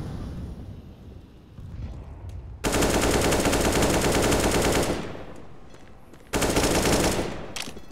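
Automatic gunfire in the Counter-Strike video game on the Overpass map, loud sustained bursts of rapid shots in two long sprays separated by a quieter stretch of game noise.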